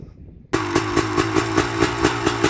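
A 2003 Honda CRF450R dirt bike engine fires up and revs high with the choke on, after a brief quiet start, then running loud and close with a steady pulsing rhythm.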